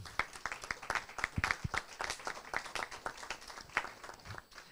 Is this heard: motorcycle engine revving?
no